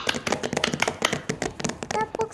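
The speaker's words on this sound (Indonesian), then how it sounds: "beri tepuk tangan untuk Uce" An elementary school classroom of children claps for a classmate after a singing turn: quick, uneven hand claps close by, mixed with children's voices and chatter.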